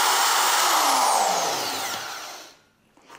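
An IRRE 1450-watt magnetic core drill runs loud and steady, its motor pitch slowly falling as it winds down, then cuts off into near silence with a faint knock.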